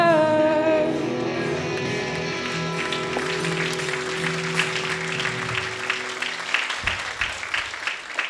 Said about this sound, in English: give the Lord another big hand clap